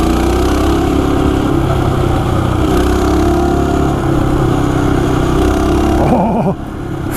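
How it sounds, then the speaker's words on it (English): A Coleman CT200U mini bike engine buzzes steadily while riding along forest roads, a close, loud mid-pitched drone that wavers slightly and then drops off near the end. "it's quite enjoyable to ride around here on the forest roads with this little bike"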